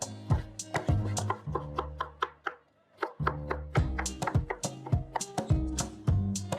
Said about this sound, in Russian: Также средними кубиками режу соленые огурцы.